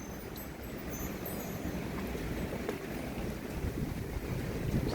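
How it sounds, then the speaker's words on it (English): Wind gust during a heavy thunderstorm in southeastern Pennsylvania, a steady broadband roar of rushing air and microphone buffeting that holds fairly loud for the whole stretch with no talking. "Just had a little wind gust there."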